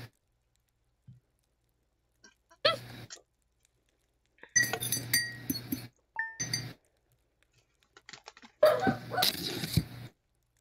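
Dogs bark in the farming video game Stardew Valley, several short bursts with gaps of near silence between them, mixed with bright clinking game sound effects.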